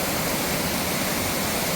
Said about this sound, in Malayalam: കർണാടകയിലെ മൈസൂരിലുള്ള ബാലമുറി വാട്ടർഫോൾസാണ് ഈ കാണുന്നത്.